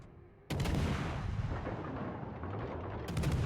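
The Yamato battleship fires its guns in the World of Warships Legends video game: a heavy salvo booms suddenly and rumbles on, followed about two and a half seconds later by a second loud blast.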